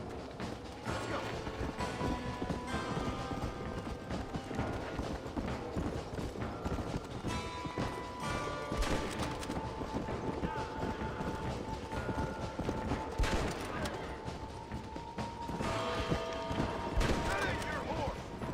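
Rhythmic clip-clop of galloping horse hooves with mechanical clatter in the video game Red Dead Redemption, continuous and fairly loud, while voices speak over it.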